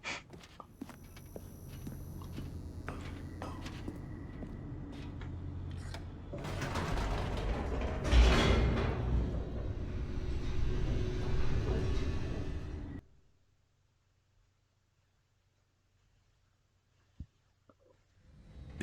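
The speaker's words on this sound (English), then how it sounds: "The elevator raced downward" A descending elevator in The Stanley Parable gives off a steady mechanical whirr and rattle that swells louder, then cuts off abruptly into near silence, followed by one faint click.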